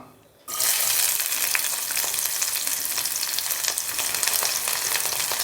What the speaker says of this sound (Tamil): நல்லா வதக்கி விட்டுக்கலாம் அதுக்கப்புறம் வெங்காயம் சேர்த்துக்கலாம்